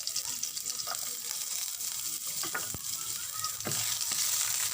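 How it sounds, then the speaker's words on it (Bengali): Garlic frying on a tawa for kebab, a steady close sizzle with a few soft clinks and scrapes as it is stirred. "একটু নেড়ে নেব রসুনটাকে।"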